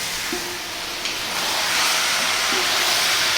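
Bone-in, skin-on chicken pieces fry in a pan for an Indian curry, giving a steady, broad hiss and sizzle that stays close and continuous with faint stirring knocks.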